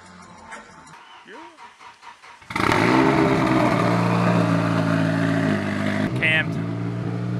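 Cammed Nissan 240SX drift car engine revving loudly up close, a sudden rough roar that holds for several seconds at high level after a quieter lead-in with faint voices, then a short higher blip near the end.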